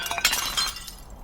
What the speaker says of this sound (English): Oh, we're just smashing pots here.